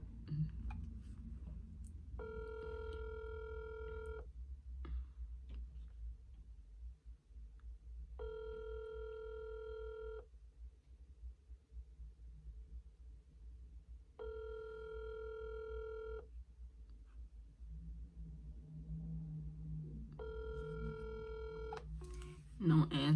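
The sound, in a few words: phone dialing and ringing with no answer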